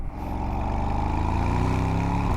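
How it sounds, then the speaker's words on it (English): A deep, throaty Mercedes-AMG GT V8 exhaust drones steadily and loudly, a rich low rumble holding even throughout with no voices. "It does have the best sounding exhaust. Just the noise of that V8."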